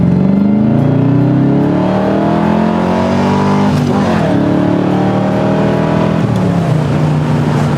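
Corvette engine revving hard and accelerating, a loud sustained roar that climbs in pitch through gear changes, heard close from inside or near the car with no talking.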